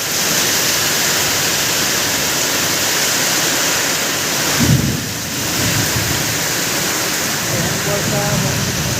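Heavy monsoon rain pours down in a steady, loud roar, with a deep rumble of thunder rolling through midway; a voice talks faintly beneath the downpour.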